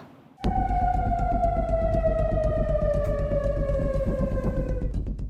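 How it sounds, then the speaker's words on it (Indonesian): A loud air raid warning siren in Amman, Jordan starts abruptly and holds a long, slowly falling tone over a low rumble, steady throughout. "Suara sirine terdengar di berbagai kawasan permukiman di kota Amman"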